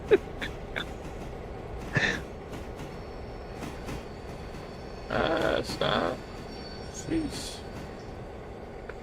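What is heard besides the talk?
train running in video game Railroader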